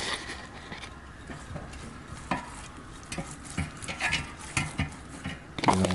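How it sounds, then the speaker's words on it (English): A brush dabs and strokes Old Bay seasoning onto corn on the cob, making soft, irregular wet scraping and tapping sounds close up, with a few light clicks against a bowl and no talking. "And I want to try to brush this on here as much as possible."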